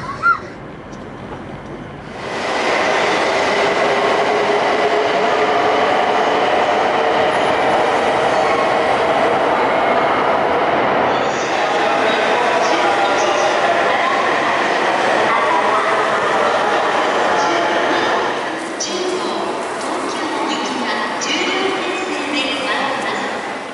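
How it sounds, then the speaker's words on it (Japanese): An E2 series Shinkansen train running on the Tohoku line, heard from inside as a loud steady rumbling roar that starts abruptly and continues throughout, easing slightly near the end. "this is using an E2 series which is used on the Tohoku line"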